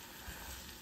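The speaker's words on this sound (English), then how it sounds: "it's kind of starting to boil." Eggs and oats cooking in a pan give off a soft, steady sizzle with faint bubbling, quiet and close, continuous for a brief moment with no voices.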